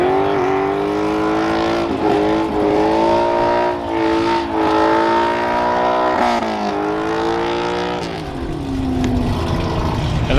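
A hot rod runs laps at an American hot rodding event on Power Tour. Its loud, sustained engine roar climbs and falls in pitch as it accelerates and backs off, with no talking over it.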